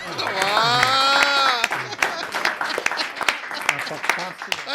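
A live audience breaks into sharp, scattered applause that follows a sustained sung or spoken note, with claps ringing out close and clear.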